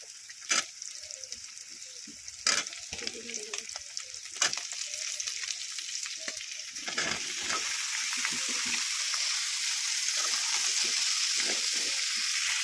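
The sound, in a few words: ingredients added to pan and frying, pumpkin with prawns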